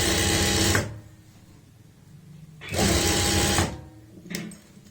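A sewing machine stitches the center of a neckline border with buckram, loud close whirring bursts of about a second each, separated by quieter pauses, with a short third burst near the end.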